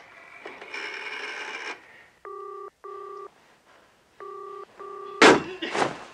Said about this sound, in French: Quand Milo essaye de téléphoner, Andrew coupe la communication